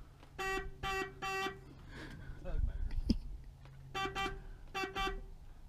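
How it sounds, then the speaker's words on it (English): Horn of a 1982 Ford F100 farm truck found in a barn, honked in short repeated bursts, three quick toots, then a pause with a voice talking, then two more toots, close and clear. "Maybe most importantly, we have a horn."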